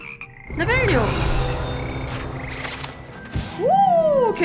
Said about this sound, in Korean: 개구리 합창단